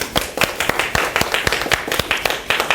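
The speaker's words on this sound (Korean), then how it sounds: "우리 박수 한번 칠까요?" An audience at a lecture claps in a brisk, even rhythm, with sharp close hand strikes repeating for a few seconds and no talking over them.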